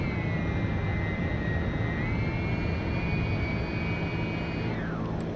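A TBM 900 single-engine turboprop roars steadily in X-Plane 11, a loud constant turbine drone with a high whine that shifts pitch slightly midway and then drops away near the end.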